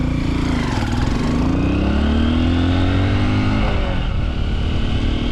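Honda XR150 dual sport motorcycle engine droning while being ridden, a loud close single-cylinder note whose pitch climbs through the gears, drops, and then rises again amid steady wind noise.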